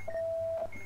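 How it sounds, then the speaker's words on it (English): Electronic beeping from a bomb module in the video game Keep Talking and Nobody Explodes, one long steady tone with a short blip near the end, over a low hum. "It just keeps going beep, boop."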